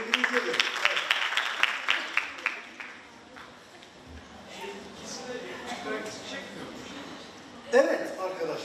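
An audience at a symposium on children and family problems applauds a teacher, the clapping dense and lively for the first few seconds before thinning out under murmuring voices and scattered noise.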